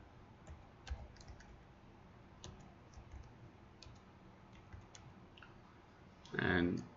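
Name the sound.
computer mouse clicking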